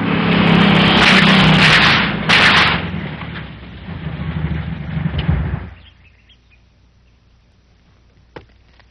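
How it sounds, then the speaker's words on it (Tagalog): Gunfire rings out in a film scene, with loud sharp reports and a rumbling burst over a dense background, then the sound falls away to near silence broken by one faint pop. "Titignan ko kung anong putukan na yan."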